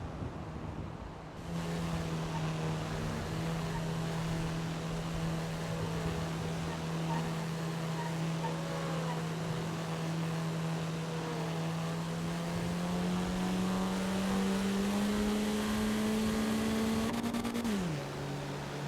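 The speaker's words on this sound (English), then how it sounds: "This tiny little car don't go fast." A tiny, slow car drives in a GTA roleplay game: a steady low engine drone holds evenly for nearly twenty seconds, rising slightly in pitch before dropping at the end, with faint background sound.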